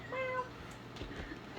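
A voice imitates a cat during a tabletop role-playing game session, giving a short, rising and falling meow near the start, then quiet room noise.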